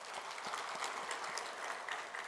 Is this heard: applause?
yes